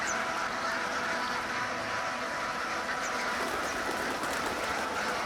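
A large flock of ducks on open winter water that the birds keep from freezing, a dense continuous bed of soft chatter and quacking with no pauses, steady and moderately loud throughout.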